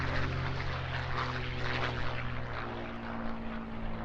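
Fighter aircraft flying past at the Eastbourne International Airshow, a steady loud propeller engine drone with a gently shifting tone that holds throughout, with no voices.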